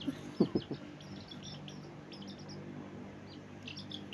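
Birds chirp in quick, faint high tweets repeated through the scene, while a few louder low clucks from nearby fowl sound near the start.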